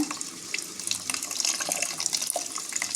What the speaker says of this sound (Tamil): இது கூட புளி தண்ணி சேர்த்துக்கோங்க